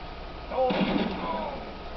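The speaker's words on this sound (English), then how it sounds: "They do shoot at you, but they can't really get you." Enemy gunfire in the video game Red Dead Redemption, a single short burst of shots, moderately loud and slightly distant, over low game ambience.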